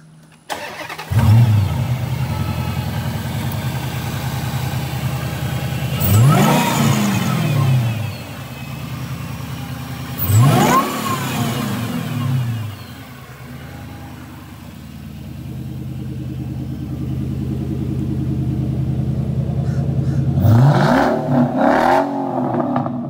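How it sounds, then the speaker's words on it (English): A Dodge Challenger SRT V8 starts with a sharp crank and catch, then settles into a loud, close idle broken by several hard revs that rise and fall, with one more pair of quick blips near the end. "I want to do a startup video on this SRT."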